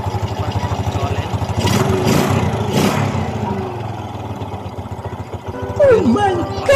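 Honda XRM 125 motorcycle engine with a piston slap fault, running up close with a steady, rapid knocking clatter. The rumble swells and eases slightly, and a brief voice-like sound rises near the end.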